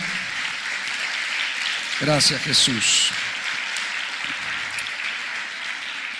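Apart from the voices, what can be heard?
applause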